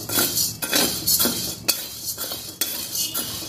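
Sago pearls are being dry-roasted and stirred in a thick, heavy iron kadhai. A utensil keeps scraping and clinking against the metal in a steady, repeated rhythm, close and clear, with no voices.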